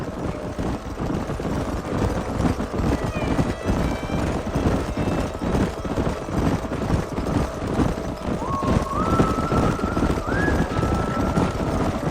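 In the Red Dead Redemption video game, horses gallop with a continuous, fast, close clip-clop of hooves. Whinnies rise over it partway through, and a rumbling outdoor background sits under everything.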